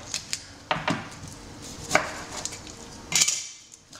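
A kitchen knife slices an onion in half and trims off its ends on a cutting board: a handful of sharp, close knocks against the board, spaced irregularly, with no talking.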